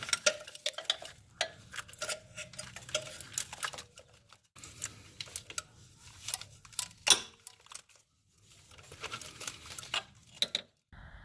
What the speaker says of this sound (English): The bolt that holds the connection to the starter is a 14 millimeter, so go ahead and remove it.